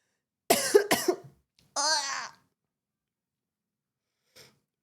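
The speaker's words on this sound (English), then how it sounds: "That was a cough" A few sharp coughs close to the mic in a quiet room, followed by a brief throaty sound and a faint short noise after a pause.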